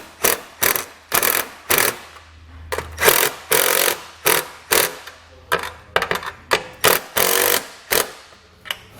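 A power tool retightens nuts onto the studs of an LED trailer tail light in a series of loud, close, rapid bursts with short pauses between them.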